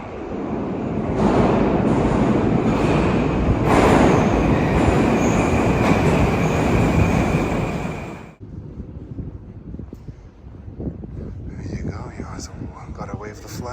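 A Tashkent Metro train roars loudly through Novza Station with squealing wheels, then cuts off abruptly to a quieter hall with echoing background noise.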